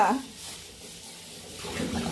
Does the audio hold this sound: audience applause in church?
no